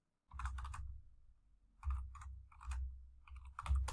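Short bursts of clacking keys as a sentence is typed on a computer keyboard, with brief pauses between groups of strokes, close-up and alone.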